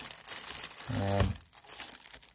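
Paper product pamphlets from a wireless keyboard and mouse box crinkle briefly as they are handled, a close rustling scrunch over a soft room background.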